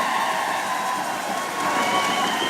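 A large crowd of students at a school district convocation cheers loudly and without a break, a dense roar of shouting voices with a few whoops and some clapping mixed in.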